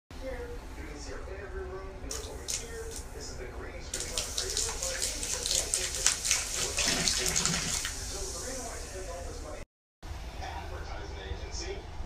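Liquid cola poured down a slow, clogged drain, a steady rushing pour building in the middle and running several seconds, with brief silence near the end.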